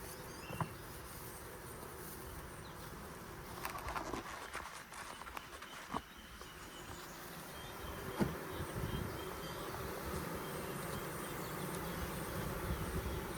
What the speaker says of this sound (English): we have like 6 frames full of bees. But hey, they are bees, and they're in my hive.